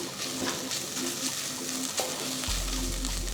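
Steady sizzling of spices frying in a pan for chicken curry, with scraping stirring sounds, close and continuous, and a low hum joining near the end.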